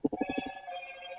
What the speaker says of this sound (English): My phone is blowing up today for some reason